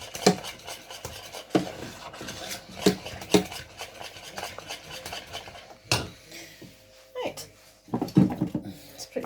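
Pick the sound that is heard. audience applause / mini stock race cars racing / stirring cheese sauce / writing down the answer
stirring cheese sauce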